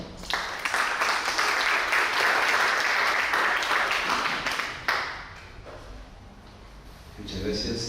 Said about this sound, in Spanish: Fuertes los aplausos para él